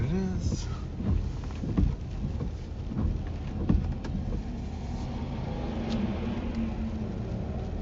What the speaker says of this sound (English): it shouldn't be raining here, but it is.